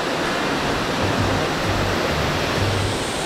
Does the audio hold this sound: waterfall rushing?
yes